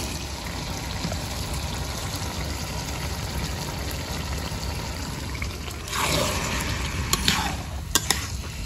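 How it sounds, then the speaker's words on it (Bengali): Rice poured into a pot for chicken bhuna khichuri, a constant frying hiss that swells with a rushing pour midway, followed by a few sharp clinks and scrapes near the end. "চালগুলো দিয়ে দেবো আমরা"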